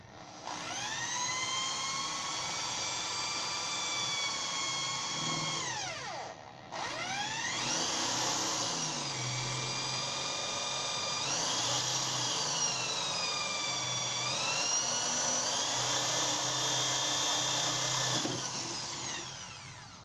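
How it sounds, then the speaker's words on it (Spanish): An electric drill whines steadily at high speed while drilling out a broken screw from a furniture handle, its pitch dipping and rising as it loads up, close and loud with no talking. "Recuerda que esté solo en la posición de taladrar y vamos lentamente hasta ensanchar"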